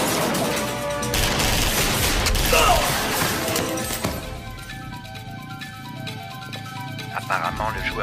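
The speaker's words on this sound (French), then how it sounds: "d'où est-ce qu'ils viennent, ces coups de feu?" Video game gunfire erupts in a dense, crashing burst for several seconds, then thins to scattered mechanical clatter and rattles, with voices talking over the action.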